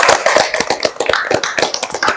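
Clapping for volunteers from Medan who helped Aceh, a lively run of distinct, close hand claps in an uneven rhythm, with a few people clapping together at moderate loudness.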